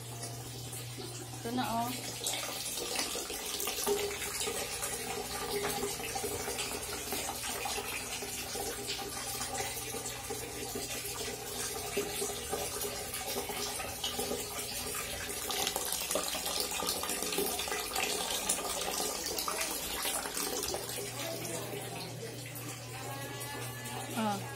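Tap water running steadily into a bucket in a bathroom before bathing a Chow Chow, a continuous rushing splash throughout, with a person talking over it.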